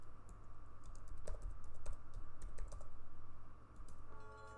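Someone types console commands on a computer keyboard while playing a strategy game. Key clicks come in quick irregular bursts, close and fairly soft, with a brief pause near the end. No one speaks.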